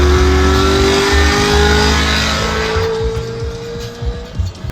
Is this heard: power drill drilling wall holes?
no